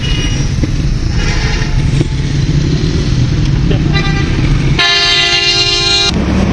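Slow, jammed traffic on the Islamabad Expressway rumbles steadily before one loud, sustained horn blares for about a second, then the engine drone carries on.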